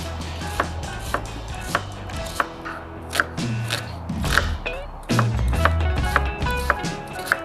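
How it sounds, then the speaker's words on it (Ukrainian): Quick, irregular knife chops dicing onion on a cutting board, crisp thuds close by with a low background hum, continuing steadily throughout. "Почну з нарізання цибулі."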